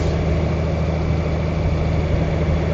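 Honda Goldwing motorcycle with DCT cruising smoothly in fifth gear, a steady low engine hum with constant loud rumble and no talk.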